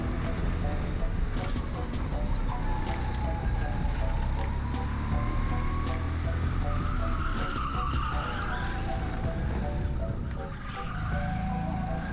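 Race car lapping a circuit at night, its engine droning close and loud with rising and falling pitch, sharp clicking ticks over the first half, and what may be a voice faintly in the background.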